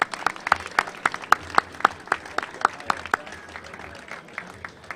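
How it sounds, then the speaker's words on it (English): An audience at a New Jersey Transit Newark City Subway PCC car dedication claps in a lively burst, sharp individual claps standing out early and gradually thinning toward the end. "give them a round of applause"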